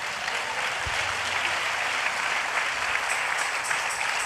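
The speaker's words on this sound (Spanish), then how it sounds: "¿Puede dar un aplauso al Señor?" A church congregation claps for the Lord during a sermon, a loud, dense round of applause filling the room continuously, with a few murmured voices faintly underneath.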